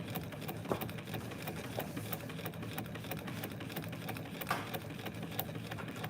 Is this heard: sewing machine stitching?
yes